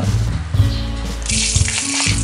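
Bay leaf, cinnamon, dried chillies, cardamom and whole cumin tempering in hot oil for Bengali chana dal, a close crackling sizzle that rises to a steady, brighter frying hiss, with a low background hum.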